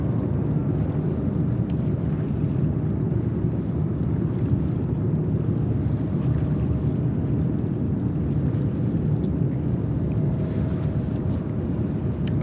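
A JetBlue Airbus A320 in special livery at JFK Airport, bound for Orlando, a continuous even jet rumble with a faint high whine held steady throughout.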